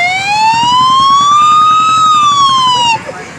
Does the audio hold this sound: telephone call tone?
no